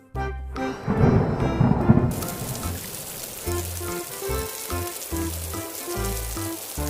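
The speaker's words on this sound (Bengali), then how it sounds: "এই সময় আবার বৃষ্টি এলো কোথা থেকে?" A cartoon storm of Fox and Tiger: a loud rumbling thunderclap with a rush of rain, then continuous rainfall with a tonal music score over it, no talking.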